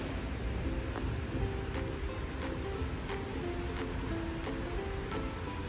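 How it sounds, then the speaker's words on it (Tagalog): Rain falls on a quiet city street in Switzerland as a steady, soft wash of hiss, with occasional sharp ticks from drops or distant street sounds and no voices. "Tahimik, walang tao dahil maulan."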